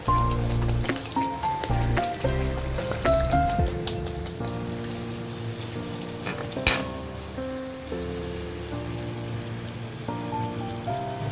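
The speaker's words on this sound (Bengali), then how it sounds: "তেল গরম হয়ে গেছে, আমি রাধাবল্লভী গুলো ছেড়ে দিলাম।" Radhaballavi, Bengali urad dal stuffed kachori, frying in hot oil, a steady loud sizzle running throughout with a sharp clatter near the middle and tonal background sounds over it.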